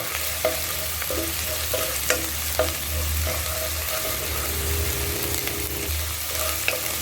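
Curry leaves and onions sizzle in hot oil while a spoon stirs, scrapes and taps the pan in irregular strokes, close and steady with no talk.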